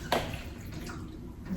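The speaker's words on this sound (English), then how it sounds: "So like I said, I'll pour a little bit water." A little water pours into a cooking pot for a stew with a soft, close splash and trickle. The sound is fairly faint and brief.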